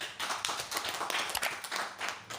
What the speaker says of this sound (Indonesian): kita berikan aplaus buat kita semua